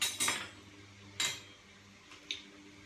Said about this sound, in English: Take the lid off.